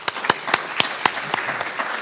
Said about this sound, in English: Let's give our panelists another round of applause before getting started.